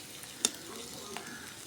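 Bitter gourd frying slowly in oil, a soft steady sizzle with a couple of brief clicks of a utensil against the pan, faint and close.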